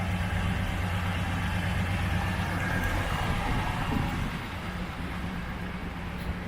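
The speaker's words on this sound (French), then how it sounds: "il tourne super bien ce moteur" A 1968 Ford LTD V8 idles smoothly and steadily, a low continuous rumble running evenly throughout with no other sounds on top.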